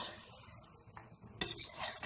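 A spoon stirs potatoes into a spicy chicken biryani masala in a metal pot, with soft scraping and clinks, a brief louder knock near the end, and a faint sizzle underneath.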